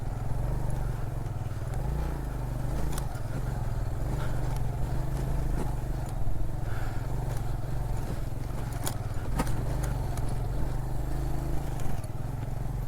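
A motorcycle engine drones steadily at low pitch on a rocky mountain road to Saif ul Malook lake, with sharp knocks and rattles from stones and jolts throughout, no talk.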